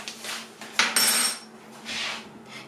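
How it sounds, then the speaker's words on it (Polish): Spoon stirring a gelatin and jelly mixture in a pot, with scraping and clinking against the metal and one sharper knock partway through, close and moderately loud with no talk. "I teraz mieszamy do rozpuszczenia się składników."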